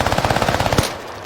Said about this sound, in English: we have the SMG, the Armaguera. This is absolutely my #1 SMG right now.